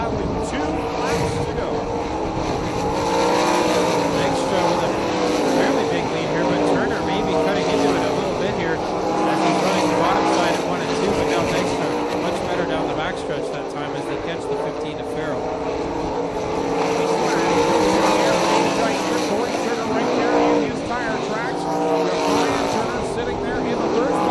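360 sprint cars race around a dirt track in the closing laps, their engines roaring continuously and loudly throughout while an announcer talks over the top.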